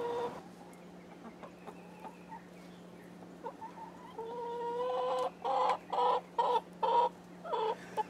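Chickens cluck in short, bright bursts that grow louder and more frequent toward the end, close by, over a steady low hum, with no talking.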